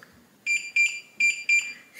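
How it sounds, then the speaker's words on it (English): A Kwikset Powerbolt 250 keypad lock sounds four bright electronic beeps in two pairs, each short and sharp, close up and clear over a quiet room. "you're going to hear a long beep and see a green flash here, meaning the code has been removed"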